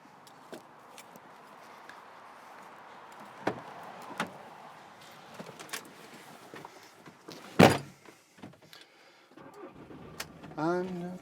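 A vehicle towing away from a driveaway awning, with door thunks, an engine starting, a loud slam, then the engine pulling away, mixed with people talking throughout.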